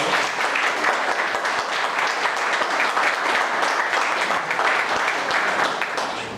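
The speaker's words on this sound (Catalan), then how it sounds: "abans de començar un aplaudiment per venir a Sant Feliu" A hall audience at a political training school launch in Sant Feliu claps steadily for about six seconds, a dense even wash of applause with no talk.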